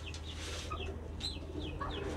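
A newly bought egg-laying hen clucks in short, soft, repeated calls, close by over a steady low hum.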